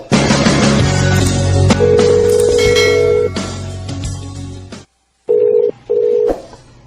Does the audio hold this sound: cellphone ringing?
yes